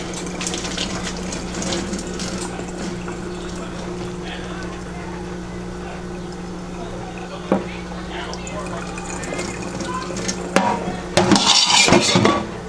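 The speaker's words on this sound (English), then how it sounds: "Add some more hot water in it" Tap water runs steadily into a sink, with a few knocks and louder splashing near the end as codfish is rinsed under the stream.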